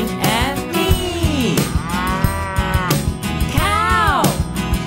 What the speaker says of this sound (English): I see a cow